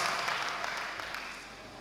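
A church congregation at a thanksgiving prayer meeting breaks into applause, a broad wash of many clapping hands that is loud at first and gradually thins and fades.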